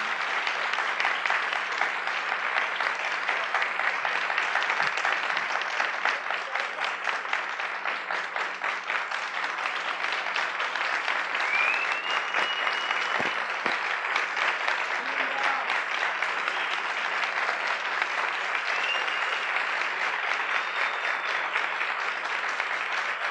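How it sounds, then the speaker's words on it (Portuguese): An audience at a women's day lecture on women in prison gives sustained applause, a steady dense wash of many hands clapping at a moderate, somewhat distant level throughout. "Eu quero bater palmas"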